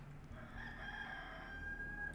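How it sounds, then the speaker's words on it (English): A rooster crowing in the Warcraft III video game, one drawn-out cock-a-doodle-doo rising and holding over a low droning background, fairly faint and without voices. "And then the rooster crows, because why not?"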